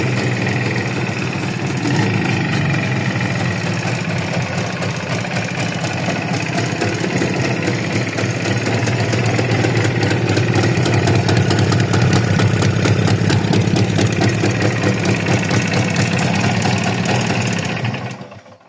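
A Minsk motorcycle engine idles close by, a loud steady putter with a rapid regular firing rhythm that runs continuously before cutting off abruptly at the end.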